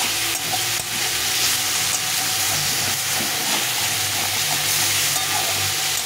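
Crushed garlic goes into a curry frying in a pan, giving a steady, loud sizzle with stirring scrapes throughout and no talking.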